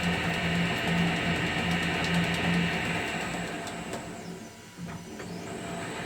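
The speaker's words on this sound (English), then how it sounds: "press the backwards reverse button, which quickly reverses the direction of the spindle" Steady mechanical whir of a Colchester Chipmaster metal lathe cutting threads, with a hum that shifts and dips around midway as the spindle quickly reverses direction.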